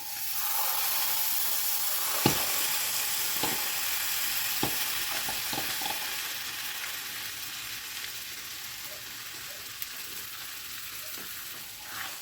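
Sour cream and browned flour sizzle steadily in a pan over low heat with a bright, hissing fry, broken by a few soft scrapes and taps of stirring, close up with no talking.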